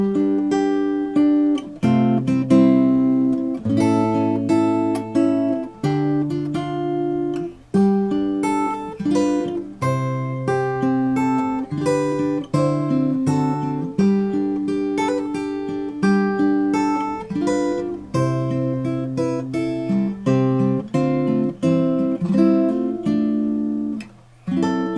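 Acoustic guitar picked fingerstyle, a steady flowing chorus melody of the hymn Great Is Thy Faithfulness over bass notes, played close and clear with no voices.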